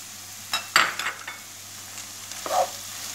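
Onions and garlic frying in a pan for chicken sauté, with a soft sizzle and a few brief stirring scrapes and clinks of a utensil against the pan, close by and fairly quiet, with no voices.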